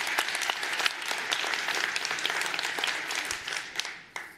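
Audience applause at a C++ programming conference keynote, a dense, steady clapping from a large hall crowd that swells and holds for several seconds before tapering off with a few last claps.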